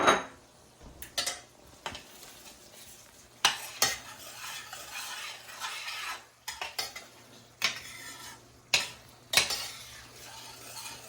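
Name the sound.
adding sausage to pan with peppers and celery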